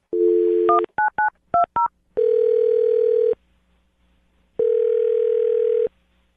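Touch-tone telephone keypad dialing a number: a steady dial tone, then a quick series of short dual-pitch key beeps, followed by two long tones with a pause between them, close and loud with no talk.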